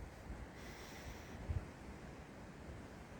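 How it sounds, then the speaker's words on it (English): Strong wind buffets an outdoor hunting stand, a steady low rushing roar with microphone rumble and one brief thump, faint and continuous with no talking. "It's just too windy"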